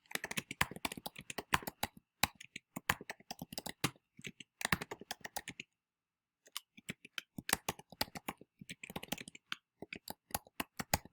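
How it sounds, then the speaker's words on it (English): Rapid bursts of typing on a computer keyboard come through close and crisp, with clustered key clicks broken by short pauses and one longer silent gap in the middle. "we're going to type in a random fact"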